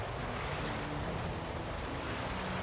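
Falling water in a World of Warcraft Dragonflight attunement ritual, a dense, continuous rushing roar like a heavy cascade, steady and enveloping throughout with no voices.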